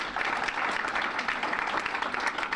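Steady audience applause at a heritage month ceremony, a dense crackle of many hands clapping at close range with no break.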